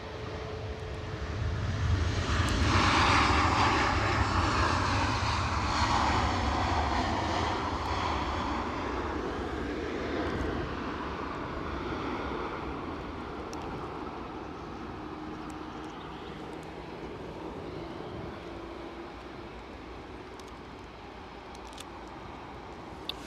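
British Airways airliner engines at Edinburgh Airport swell into a loud, close roar early on, then slowly ease back into a lingering whine and rumble that fades gradually over the remaining twenty seconds.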